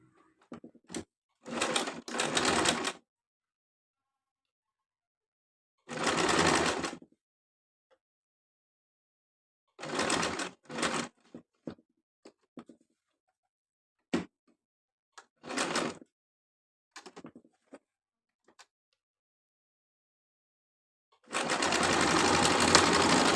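A sewing machine joins fabric pieces for a simple frock in several separate bursts of stitching, each lasting a second or two, with silent gaps between them and a longer run at the end, all close and clear.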